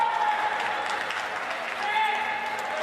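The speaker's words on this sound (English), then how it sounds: "The shots always get a nice round of applause from the crowd, don't they?" Spectators at a wheelchair curling bronze medal game between Korea and Sweden give a steady round of applause, a sustained wash of clapping from the crowd, with a commentator's voice over it.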